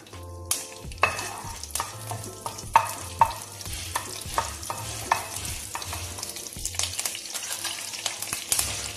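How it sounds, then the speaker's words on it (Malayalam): Cinnamon, cardamom and curry leaves fry in hot oil for a chicken stew, giving a steady sizzling hiss under repeated scraping and tapping strokes of a stirring spoon, fairly close and moderate in level. "എണ്ണ ചൂടായിട്ടുണ്ട്. എണ്ണയിലേക്ക് ഞാൻ എന്താ 2 ചെറിയ കഷ്ണം പട്ട ഇടുന്നുണ്ട്, 3 ഏലക്ക ഇടുന്നുണ്ട്, 1 തണ്ട് കറിവേപ്പിൻ്റെ ഇല ഇടുന്നുണ്ട്."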